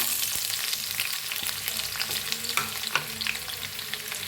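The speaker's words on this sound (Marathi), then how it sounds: "लसूण टाकला आहे बघा हिरवी मिरची म्हणजे चुकून आता छान भाजलं हे आता ह्याच्यात टाकूया कांदा" Onion frying in a pan with garlic and green chilli for a chicken dish, a steady close sizzle with occasional stirring clicks and scrapes throughout, no talking.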